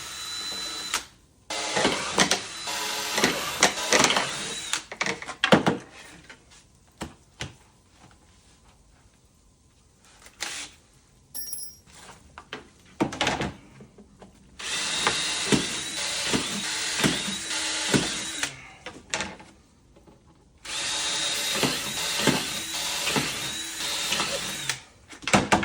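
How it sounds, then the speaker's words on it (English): Bursts of a power drill whining at high speed, drilling screw holes all the way through a board, several separate runs of a few seconds each with short pauses between, close and loud. "I need to drill those all the way through so that I can actually put in the much larger screws"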